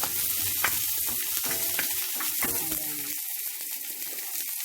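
Onion and tomato hit a hot pan and fry with a close, continuous sizzle, broken by several sharp utensil clinks and scrapes in the first few seconds before the frying settles.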